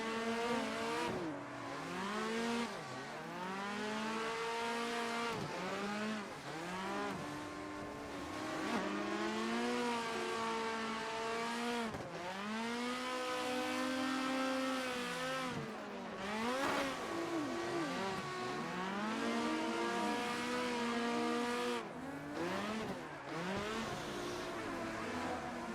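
A car drifting with a loud, continuous engine revving through rising and falling pitch sweeps, tires squealing as it slides and spins out, with no talk over it.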